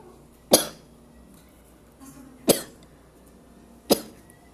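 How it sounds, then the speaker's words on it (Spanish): Three sharp coughs, spaced roughly a second and a half apart, close and fairly loud against a quiet room. "Tengo tos."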